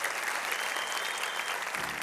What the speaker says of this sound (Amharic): አጨብጭቡ።